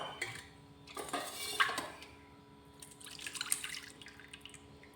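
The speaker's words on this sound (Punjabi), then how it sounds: "ਹੁਣ ਆਪਾਂ ਨੇ ਇਹਦੇ ਵਿੱਚ ਪਾਣੀ ਪਾ ਦਿੰਨੇ ਆ" Water goes into a burnt steel pot, giving quiet splashes, drips and light metallic clinks in short bursts, close by and faint, with no voices.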